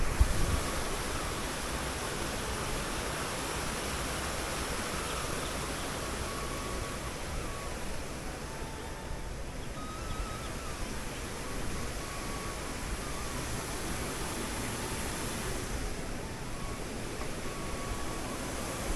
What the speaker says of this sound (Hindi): पानी जो कलकल की आवाज़ होती है ना, बहुत अच्छी लगती है